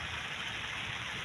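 Rain falling at a construction site, a soft continuous patter and hiss of steady rainfall with no talking, quiet and even throughout.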